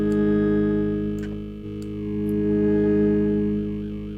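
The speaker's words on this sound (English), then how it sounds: "It sounds like one of those Tuvan singers." A droning buzzy synthesizer tone with shifting overtones that whistle above it, like Tuvan throat singing, swelling and dipping in loudness.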